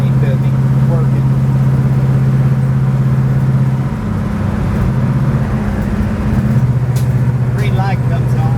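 A Chevelle 427 wagon cruises at 70 mph near 1,900 rpm, giving a steady, loud low engine drone with road rumble throughout and a brief dip in the middle, while someone talks over it.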